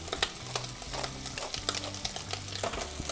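Coarsely ground pepper stir-fries in rendered bacon fat in a single pan, with a steady low sizzle broken by frequent scraping and clacking from the utensil, no voices.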